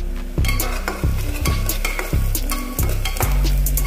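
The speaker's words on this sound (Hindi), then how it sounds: "थोड़ा सा और भूनेंगे 2 से 3 मिनट, 2 से 3 मिनट और भूनेंगे प्याज को" Onions frying in a pressure cooker pan for rajma, stirred repeatedly with sharp scraping strokes over a steady loud sizzle, close up with no talking.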